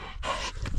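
A dog pants close by in quick, breathy bursts, with one rushing exhalation standing out amid the rapid rhythm.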